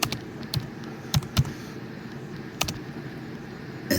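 Quiet, scattered keystrokes on a computer keyboard, a handful of light clicks with short pauses between them over a faint background hum.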